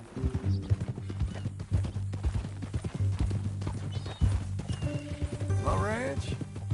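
Horse hooves clip-clop steadily at a walking pace in Red Dead Redemption 2, with people talking over them and a brief whinny near the end.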